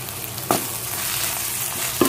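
Brinjal and fenugreek leaf curry sizzles steadily in a pan, with two distinct scraping stirs of a spoon cutting through the constant hiss.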